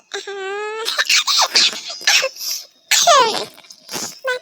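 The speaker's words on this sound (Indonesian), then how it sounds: "Batuk." A string of harsh coughing bursts mixed with strained, laugh-like vocal sounds, close and fairly loud, coming in uneven fits.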